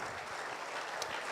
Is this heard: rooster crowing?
no